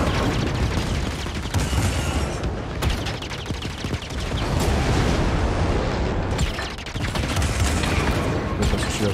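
Blaster gunfire in Star Wars Jedi: Fallen Order, a dense, loud, continuous barrage of rapid shots and booming impacts with no break.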